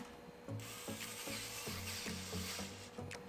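Ratchet tightening bolts on a Jason Retro Volt electric bike, a quick regular series of clicking pawl strokes, close and fairly quiet, with no talking.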